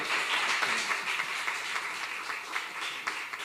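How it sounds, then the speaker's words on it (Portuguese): A church congregation claps loudly and steadily through a Portuguese-language worship service before communion, a dense, even wash of many hands with no pauses. "dê um aplauso bem forte para o Senhor"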